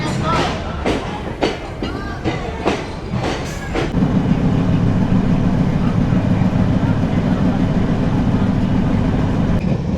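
A Kolkata–Dhaka passenger train runs through Padmabila junction without stopping. A loud, close rumble begins with several rhythmic wheel clacks and then settles into a steady heavy drone.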